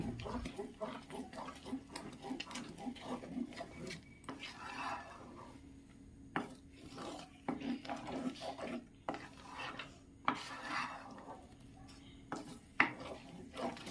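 A wooden spoon stirs jackfruit pulp in a pan for halwa, making soft scraping and rubbing strokes against the metal at an irregular pace, close by, with light clinks and a few brief noises over a steady background hum.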